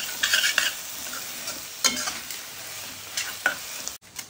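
Masala being stirred and scraped in a pan for masala chapathi, a series of short clinks and scrapes with light sizzling underneath, close and fairly quiet, no talking.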